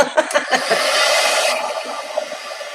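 A hair dryer blows steadily at close range to dry paint, a breathy whoosh lasting under two seconds, preceded by brief clatter and followed by fainter rustling.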